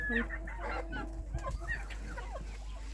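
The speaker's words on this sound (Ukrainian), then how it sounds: "Вон до курчата трохи поприбігали." Chicks clucking close by in short, scattered calls in a farmyard on a warm autumn day, with a low steady hum underneath and no clear talking.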